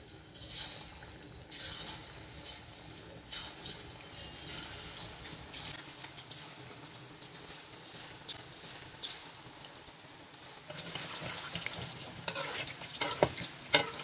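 Pakoras frying in hot oil for a Punjabi karhi, a steady crackling sizzle throughout with occasional sharper pops and stirring clatter near the end, close and moderately loud, no voices.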